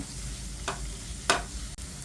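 Chopped garlic and ginger sauté in a pan for a broccoli dish: a soft, steady sizzle, broken by two brief scraping stirs, quiet and close, with no voices.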